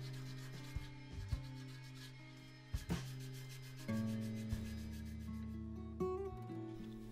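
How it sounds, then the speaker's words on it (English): A wooden box gets a soft, faint hand sanding, with quiet rubbing strokes and a few light knocks over a steady background of low music. "Final lot of hand sanding on the box itself before I can get started on the lid."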